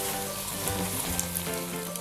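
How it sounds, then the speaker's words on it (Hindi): Potato and chicken nuggets fry in hot oil, a dense, steady crackling sizzle heard up close throughout with no voices over it. "इस तरह हम फ्राई करेंगे।"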